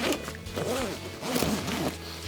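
Large U-shaped zipper on a Deuter Aircontact Pro 70+15 backpack being undone, a series of close, scratchy zipping pulls in short bursts, with no talking.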